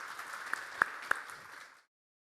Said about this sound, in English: So let's give the panel a big round of applause.